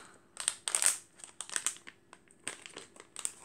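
Plastic crinkles and crackles in quick, irregular bursts as a peel-off foot mask sachet is tugged and torn open by hand, close and fairly quiet.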